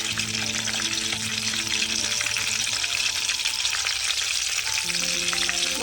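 Dried red chillies and garlic crackle and fry in hot oil for a tomato rasam tempering, a steady loud sizzle with faint stirring, no voices.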